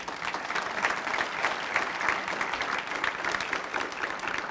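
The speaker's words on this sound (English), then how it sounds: "If we can give him a round of applause." A conference audience gives sustained applause, with many hands clapping in a dense, even patter that holds steady across the whole stretch.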